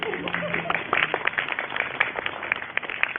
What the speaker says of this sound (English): big applause there from her son